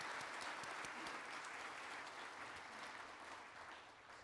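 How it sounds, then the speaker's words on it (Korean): Audience applause fills the hall at an award ceremony, a dense steady clapping that holds loud and even for several seconds before easing slightly toward the end. "뜨거운 박수 부탁드립니다."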